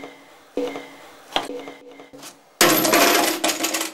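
Old franc coins rigged to a door handle clatter and spill as the handle is pressed, with a few sharp metallic clinks followed by a loud, dense cascade of jingling coins.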